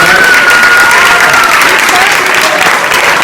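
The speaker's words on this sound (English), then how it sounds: "I think these people deserve really, really good applause." Loud, sustained applause from a banquet audience at a high school band banquet, honoring the parents of graduating seniors, steady dense clapping filling the room with some crowd murmur throughout.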